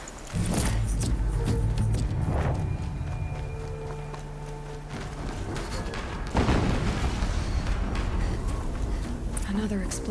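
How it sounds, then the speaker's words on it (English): Explosions from the video game Horizon Zero Dawn, with loud booms around the one- and six-second marks amid a dense, continuous game soundscape of rumbling, footsteps and effects, with a voice speaking over it. "Another explosion."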